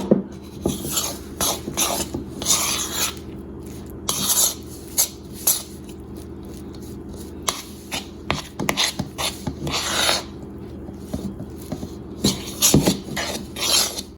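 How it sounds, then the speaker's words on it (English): Biscuit dough being mixed with milk in a bowl: a utensil repeatedly scrapes and clinks against the bowl in an irregular, close rhythm of rubbing strokes and small knocks, with no talking. "It's hard to mix that in gradually"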